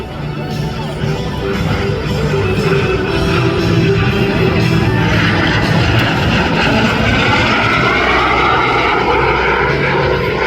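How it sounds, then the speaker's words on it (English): A Sonic Microjet engine roars steadily and loudly at close range during an airshow pass, its whine shifting in pitch as the aircraft moves, with crowd noise underneath. "lining up with the show line from the right, Tony Ward and the Microjet"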